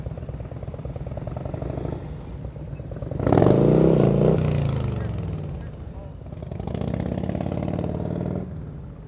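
A motorcycle engine at low throttle during slow-speed riding practice, a steady close throb that swells into a louder revving surge mid-clip and then settles back, with someone talking over it.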